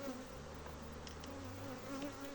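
Steady, dense buzzing of many honey bees close by at a hive being given a new box, a continuous drone with no voices.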